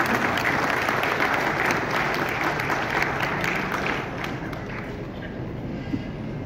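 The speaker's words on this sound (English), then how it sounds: "Could I have a round of applause?" Audience applause at a real-estate event in Goa, a dense steady wash of clapping from a large crowd that fills the whole stretch, easing slightly toward the end.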